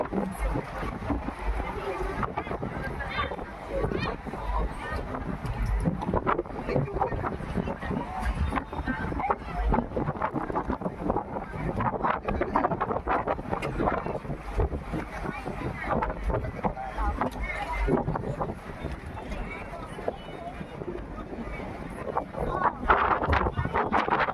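A large crowded passenger boat carrying around 150 to 200 people pulls away on the water in Cambodia, a steady engine and water rumble mixed with wind buffeting the microphone, with people talking throughout.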